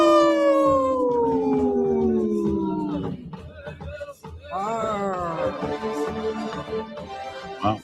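People imitate wolves with their voices, giving long, drawn-out howls that slide downward in pitch, then break into several overlapping, wavering howls in a loose group chorus.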